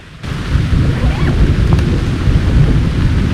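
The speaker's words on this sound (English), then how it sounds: "Not sure if you guys will be able to actually hear that thunder in the background." Low, continuous rumbling of thunder rolls beneath heavy rain and wind noise outdoors along the Cheshire sandstone ridge, loud and close throughout.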